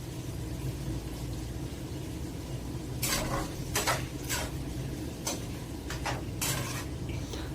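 Onions with salt and spices stirred in a pan for a beef curry, a steady low sizzle with a handful of sharp scraping strokes of a utensil against the pan in the second half, fairly faint.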